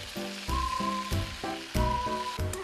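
Pork belly stir-fried East Timorese style, hissing and crackling in a pan with steady sizzle and several bursts of louder spitting as the meat is tossed, close and with no voices.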